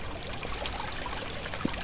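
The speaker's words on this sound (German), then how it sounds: "Scheiß Wasser, Alter." Water flowing in the video game Minetest, a steady soft rushing and trickling that runs evenly throughout with no break.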